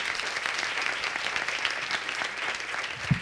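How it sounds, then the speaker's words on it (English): A room of attendees at a training session claps for the presenters and moderator in sustained, even applause, with a brief low thump near the end. "Can we just have another round of applause for our presenters and our moderator?"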